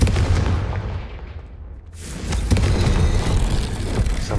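Confringo fire blast spell detonating in Hogwarts Legacy, a loud booming burst that swells back up after a brief lull, with no talking over it.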